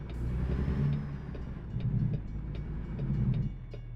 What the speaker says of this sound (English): Got a train coming in.